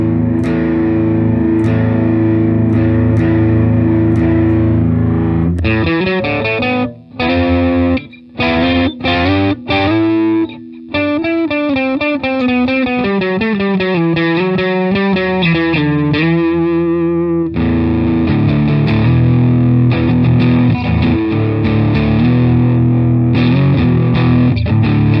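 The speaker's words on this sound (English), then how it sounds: "turn the distortion all the way up." An electric guitar played through a heavily distorted effects unit rings out loud and sustained. Chords and notes buzz thickly, with a few brief gaps where the sound cuts off, then the playing continues alone.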